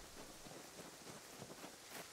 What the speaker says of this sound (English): Oh, the sound of the rain.